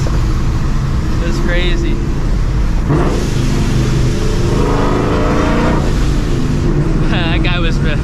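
A supercharged 1999-2004 Ford Mustang GT engine rumbles and revs through a downshift, loud and close from inside the cabin, with people talking over it.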